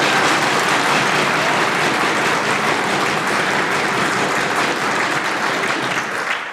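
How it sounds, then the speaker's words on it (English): Sustained, dense applause fills the BC Legislature chamber, a steady loud clatter of many hands clapping together for several seconds before tapering slightly at the end, with no talk over it. "Would the House please join me in a very raucous round of applause"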